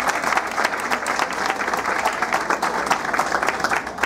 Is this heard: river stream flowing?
no